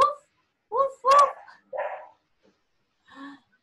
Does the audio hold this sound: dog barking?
yes